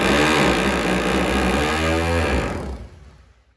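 A 220V electric rotary hammer in concrete-chiseling mode runs loud and close with a rough, pulsing motor rattle for a few seconds before spinning down and fading out.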